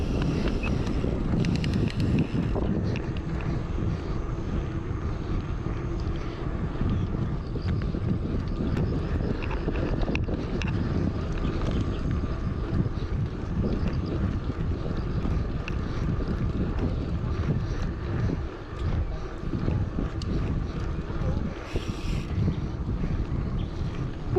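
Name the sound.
strong wind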